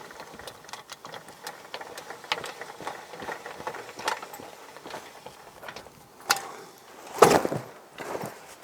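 Cranking handle on a Roma cantilever parasol being wound in, giving a series of light rapid mechanical clicks and ratchet taps, with a louder clunk near the end.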